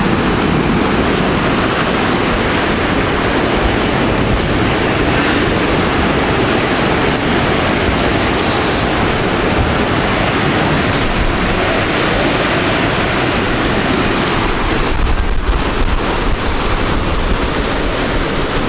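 Waves at Anse Soleil beach on Mahé in the Seychelles, heard as a constant, loud wash of surf that masks other sounds throughout.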